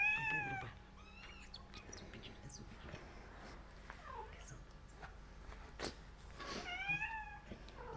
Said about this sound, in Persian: گوش کنی صحبت گربه